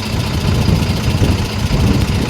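A Bajaj thresher engine runs steadily at close range, a loud, continuous low rumble with a rough, even throb and no pauses.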